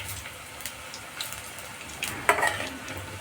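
Chilli gobhi manchurian pakoras frying in hot oil after being turned, giving a faint, soft sizzle with a few small clinks and stirring scrapes toward the end.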